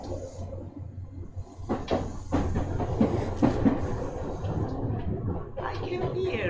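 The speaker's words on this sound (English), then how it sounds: "I got on this train first." A passenger train on a line heading north to an amusement park runs along the rails with a steady low rumble, occasional clacks and rattles from the car, and a voice talks faintly near the end.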